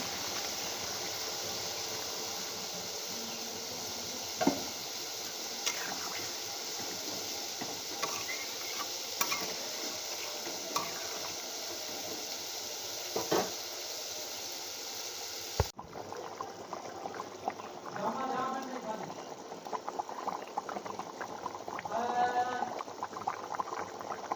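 Hot water poured into a cooking pan in a home kitchen, followed by steady simmering and bubbling, with faint clinks and stirring, close and moderately quiet, no talk.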